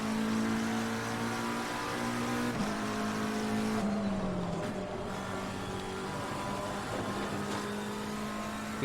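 A race car in Assetto Corsa Competizione runs wide over curbs and red blockers, its engine droning loudly and steadily with a gear-shift dip in pitch midway, and no voices.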